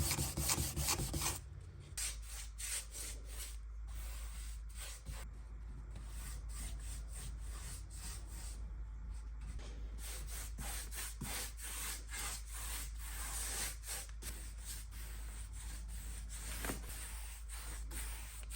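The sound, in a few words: sanding dried wood filler on a bookcase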